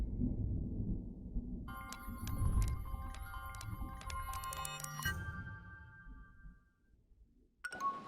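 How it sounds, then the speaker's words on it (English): A phone buzzing in the video game Murder by Choice, a short run of rhythmic electronic pulses over low background sound, ending in a brief buzz. "What's that buzzing? Oh, I think it's my phone."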